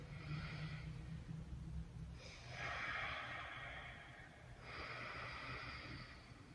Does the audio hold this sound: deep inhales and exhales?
yes